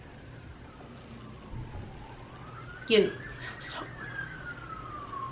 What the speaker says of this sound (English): so many sirens today.